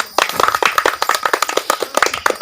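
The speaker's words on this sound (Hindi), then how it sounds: "एक मन पर हम अच्छा से एक बार ताली बजाओ दीदी मन, मस्त।" A group of women clap their hands together in an irregular, lively burst of many overlapping claps, close and loud, at a vaccination gathering in Chhattisgarh.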